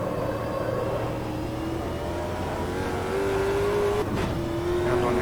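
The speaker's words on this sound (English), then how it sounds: "Now the car itself, obviously, big V8 underneath the bonnet." A big V8 stock car engine in Automobilista 2, droning steadily at moderate revs and then rising in pitch as it revs harder near the end, close and continuous.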